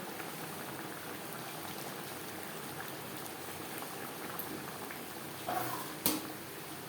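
Bhola fish curry with potatoes simmers in a pot on a gas flame, a soft continuous bubbling hiss with a brief clink near the end.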